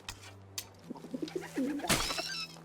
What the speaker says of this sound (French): Les pigeons zonent un peu partout.